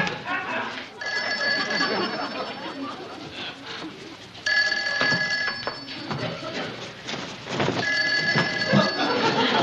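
An old landline telephone bell rings in a 1960s sitcom home at night, sounding in several long bursts with short gaps between them, and voices talk over the ringing throughout.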